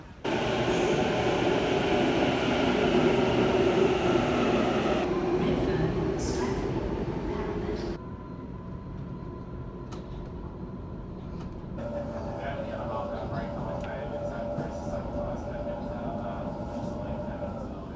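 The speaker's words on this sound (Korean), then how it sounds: "전철을 지금 기다리고 있어요. 3분 뒤면 도착한다고 하네요." A subway train in Sydney rumbles loudly into a station, its roar easing after a few seconds into a quieter steady hum with faint rattles and clicks, while a voice speaks under it.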